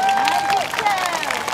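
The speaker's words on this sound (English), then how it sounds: "Just clap your hands, all of you." Children in a school setting clap their hands together in a brief burst of crowd applause, moderately loud and close, with a voice and a faint tonal sound running over it.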